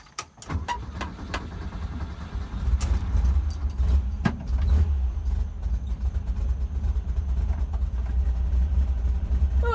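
A Volkswagen engine idles at a low, steady rumble after starting, with a few sharp clicks and knocks at the start.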